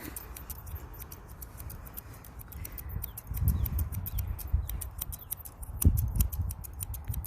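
Scissors trimming a Portuguese Water Dog's coat outdoors give rapid, crisp repeated snips, close and clear over low wind rumble that grows louder midway.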